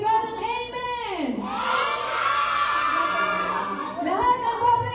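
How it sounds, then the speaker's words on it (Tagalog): A crowd of children at a church vacation Bible school shouts in unison, a loud sustained cheer rising after a leader's call and holding for a couple of seconds before the leader's voice returns. "Lahat ng nabusog, sumigaw ng amen!"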